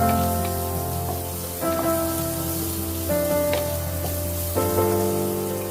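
Half-inch ginger slices stir-fried in a hot pan give a steady, close sizzling hiss that swells in a few stirring bursts, with tonal background sounds layered over it.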